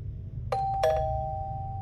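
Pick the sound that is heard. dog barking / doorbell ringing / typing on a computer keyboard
doorbell ringing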